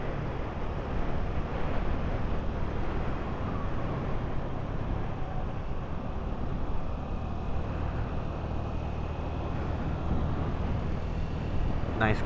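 Wind roars past a Honda Navi motorcycle riding at speed on a 55 mph road, a constant, loud, broadband rush over a low engine rumble, with no break throughout.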